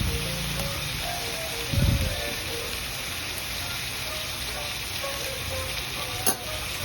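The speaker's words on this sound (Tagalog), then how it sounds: "Halo-halo ulit." Octopus stir-fried with chili powder and garlic sizzles steadily in a hot pan, with a loud burst of stirring scrapes early on and a constant frying hiss throughout, no voices.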